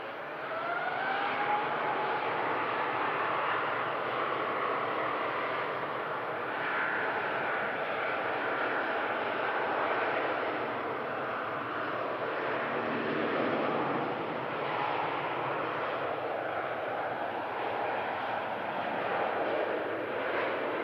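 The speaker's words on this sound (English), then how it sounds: "Cathay Pacific A350 on the way to Hong Kong." A Cathay Pacific Airbus A350 bound for Hong Kong departs Manchester Airport, its jet engines producing a sustained broad roar that holds steady at a fair distance, with faint wind rumble and no voices.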